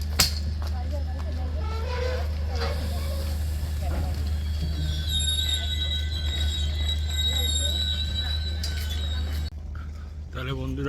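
The Kolkata–Radhikapur special express train at Barsoi Junction rumbles steadily with squealing wheels and long whistling tones, while voices talk on the platform.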